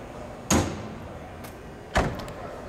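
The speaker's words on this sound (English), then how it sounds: "and let's shut that door" Door of a 1939 Oldsmobile convertible being shut: two solid thuds about a second and a half apart, close by and moderately loud over faint background noise.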